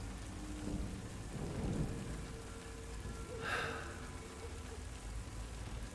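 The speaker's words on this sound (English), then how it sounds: "Look how much the rain hits the ground here in the courtyard compared to underneath this tree." Steady rain pours onto a stone courtyard in Tomb Raider The Angel of Darkness, a dense continuous hiss heard alone with a brief brighter splash partway through.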